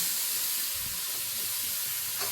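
Tadka frying in a pan for a home-cooked dinner party, a steady continuous sizzle and hiss that holds at an even level with no talk.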